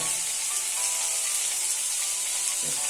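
Chopped tomatoes and garlic hit a hot frying pan for a jackfruit seed and banana curry, giving a loud, continuous hissing sizzle throughout.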